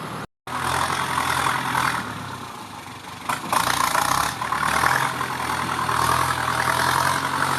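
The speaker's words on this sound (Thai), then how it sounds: "เครื่องยนต์ดีเซลครับซีสูบครับ direct injection ครับระบายความร้อนด้วยน้ำ" A Yanmar EF494T tractor's four-cylinder, direct-injection, water-cooled diesel engine runs steadily up close with a straight-through exhaust and no muffler, a continuous rough rumble that briefly cuts out near the start, then swells a little louder.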